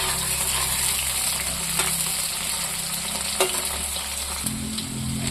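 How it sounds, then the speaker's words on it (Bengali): Cut okra (bhindi) with tomato frying in a kadai makes a steady, close hiss of oil with a few faint crackles and a low background hum, with no talking. "আমি এখানে ভিন্ডি টমেটো কেটে নিয়েছি আর এখানে কড়াইতে ভাজা করতে দিয়ে দিয়েছি"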